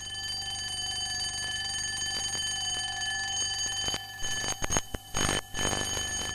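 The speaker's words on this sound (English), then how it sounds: "An alarm clock," An alarm clock rings with a steady, shrill metallic bell tone that breaks into loud, jangling bursts of ringing near the end, with no voices.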